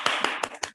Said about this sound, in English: Can we give Dr. Dyer a round of applause?